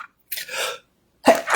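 A single sharp human sneeze bursts out loud and close after a brief breathy intake, followed by a quick second vocal burst after a short pause.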